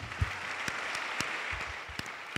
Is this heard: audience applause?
yes